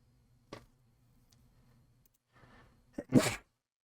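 A single sneeze bursts out near the end of a quiet stretch, short and fairly loud, after a few faint ticks and rustles.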